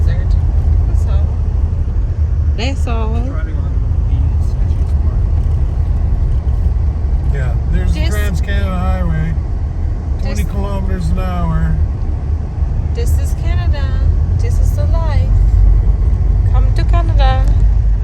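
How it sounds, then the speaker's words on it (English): Car driving along a sketchy road through a blizzard, a steady low engine and road rumble running throughout beneath people talking inside the vehicle. "Just driving through Blizzard."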